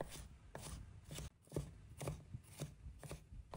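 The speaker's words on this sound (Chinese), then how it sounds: "然后将它们都切成末，不用切得过于细碎" A kitchen knife chops ginger, garlic and scallion into small even mince on a cutting board, with steady, fairly regular thuds about twice a second, close and clear with no talking.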